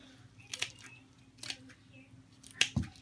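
A blade cuts into a soft, rotten dahlia tuber in a few quiet, separate snips and squishes spaced about a second apart, close and faint against a hushed room.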